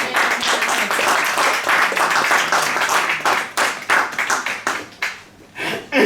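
A church congregation claps in rhythm during a French-language sermon, with loud continuous clapping mixed with voices that thins into scattered bursts near the end.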